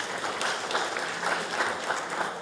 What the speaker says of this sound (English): Told you they could clap.